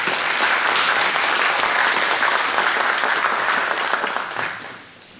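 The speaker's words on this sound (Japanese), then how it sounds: "皆様拍手をお願いいたします。" An audience at a public election candidates' debate in Hiroshima claps loudly in dense, sustained applause that holds steady for several seconds, then quickly dies away near the end.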